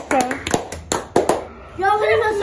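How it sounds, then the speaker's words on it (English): A few sharp hand claps ring out close by in a home on Christmas Eve, spaced unevenly, with a voice and other talk mixed in between them. "Y'all wanna hear my clap?"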